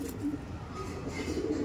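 Madras pigeons cooing steadily at close range, low soft coos continuing throughout with light background noise and no talk.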